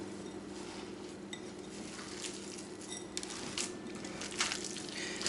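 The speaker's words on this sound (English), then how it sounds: "We're going to mix that all together really well." Ground burger meat is mixed with pepper and a cracked egg, giving a soft, squishy, continuous stirring with faint patters and occasional light clinks, close and steady, with no talking.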